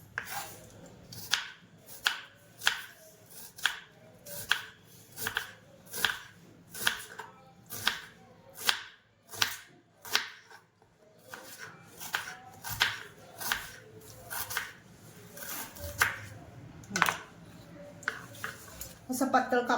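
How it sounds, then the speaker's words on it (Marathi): Onions are sliced thin with a knife on a board for sun-drying, a steady run of crisp, evenly spaced cutting taps, close and fairly quiet, with someone talking softly between strokes. "असं चांगला पातळ पातळ कापून घ्यायचं आहे।"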